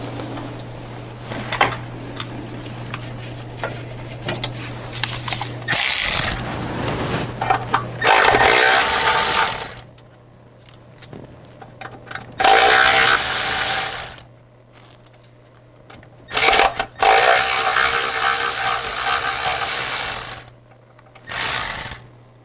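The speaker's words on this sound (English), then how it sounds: "So I got the bolts for the oil level sensor removed." A ratchet wrench removes the oil level sensor bolts on a Sprinter van, giving several loud bursts of rapid clicking separated by quiet pauses, close up with no talking.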